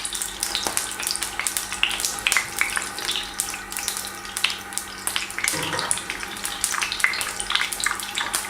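Onions lightly frying in a pan for egg biryani, a steady, dense sizzle that holds close and fairly loud throughout with no talking.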